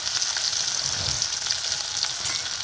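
Ginger and green garlic fry in hot oil with cumin while being stirred, producing a close, dense crackling sizzle with soft stirring scrapes, brief and without speech.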